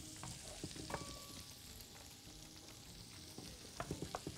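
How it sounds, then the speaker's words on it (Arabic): Garlic cloves frying in butter in a meat pot, a close, continuous crackling sizzle with scattered pops and spatters throughout. "الزبدة اهي، هنحط فص تومة، هنحط هنا ثلاث تومات"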